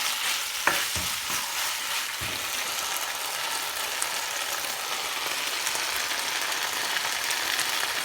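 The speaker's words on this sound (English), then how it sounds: "Saute it well." Kolhapuri chicken sautéing in a pan gives a loud, continuous close sizzle, with a few sharp scrapes and knocks of stirring near the start and no talking.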